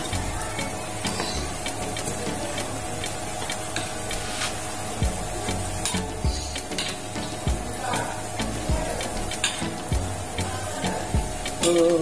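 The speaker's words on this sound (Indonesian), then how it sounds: "kita goreng menggunakan api sedang ya guys" Steady crackling sizzle of bakwan vegetable fritters frying in hot oil over medium heat, with scattered pops and spatters throughout, close by and continuous.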